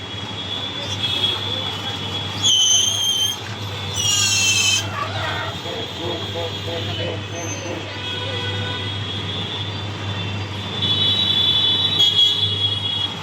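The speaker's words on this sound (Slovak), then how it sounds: "tu 2 metre od nás je premávka" Busy street traffic in India passes about two metres away, a continuous hum with horn-like tonal bursts and a few louder swells, close and steady throughout.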